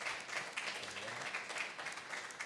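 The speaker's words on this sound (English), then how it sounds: "So one more time, give her a round of applause." Steady applause from a small audience greets a performer at a music performance and interview session, even clapping that stays moderately soft and continuous throughout.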